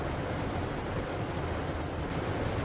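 Heavy rain drums steadily on the roof of a parked Kia Ray during car camping with a mosquito net set up, a dense, even patter close by and with no voices.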